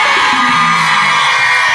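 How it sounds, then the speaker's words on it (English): Women in a crowd at a live reggae concert answer the stage with a loud, sustained burst of screams and whoops that fills the space and rises briefly near the middle. "Sisters, can I get a scream?"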